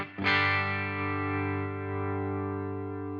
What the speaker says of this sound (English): Let's dial the game back because I want to check out how it sounds with reverb. Okay, let's dial in some reverb.